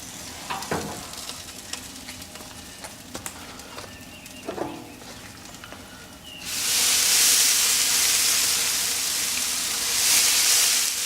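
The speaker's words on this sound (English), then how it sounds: "you can hear the brisket rendering, the fat rendering out of it" Texas-style brisket in a smoker sizzles faintly with soft crackles as its fat renders, then a loud steady hiss of spritzing liquid takes over partway through.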